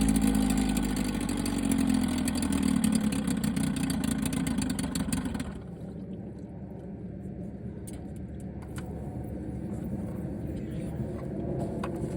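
An all-original 1950s outboard motor idles steadily on a freezing cold day with a low, even putter, loud at first and then dropping to a quieter, smoother idle partway through.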